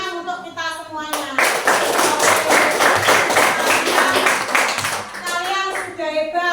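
Schoolchildren in a class applaud together in a steady, dense round of clapping lasting several seconds, preceded and followed by a teacher speaking.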